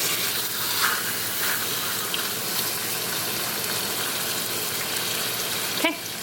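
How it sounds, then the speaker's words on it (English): A salted meat patty sears in a hot pan with a steady, close hiss that runs unbroken throughout, with a small clatter near the end. "We're gonna leave it until it gets a nice sear, flip it."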